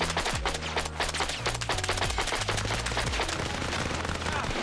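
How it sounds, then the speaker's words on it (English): Rapid automatic gunfire from the Arma Reforger video game, a dense continuous burst of loud shots running throughout with low tonal game sounds underneath and no speech. "Everyone's going to start shooting me because I've done friendly fire."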